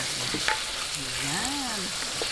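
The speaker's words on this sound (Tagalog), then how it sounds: "Isasabay ko po dito pagigisa yung puso ng manok." Chicken hearts sauté in a hot pan with a steady, close sizzle and frying hiss that runs throughout, alone without talk.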